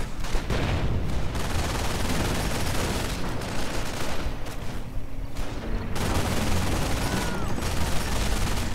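Dense gunfire and mortar blasts fill a 1v1 real-time strategy battle in the Company of Heroes game, with rapid overlapping shots and bursts forming a loud, continuous barrage.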